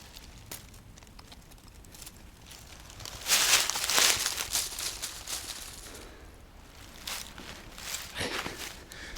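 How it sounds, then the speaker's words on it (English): Footsteps rustle over dry leaf litter on a silent forest floor near Lviv, Ukraine, coming as soft crunching bursts that swell midway and again near the end, close and fairly quiet. "When the forest is so silent and you hear rustling beneath your feet"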